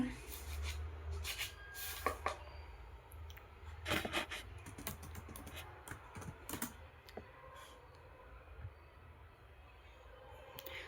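A computer keyboard is typed on close by while an SQL query is written, with quick bursts of soft key clicks separated by short pauses, faint under a low room hum.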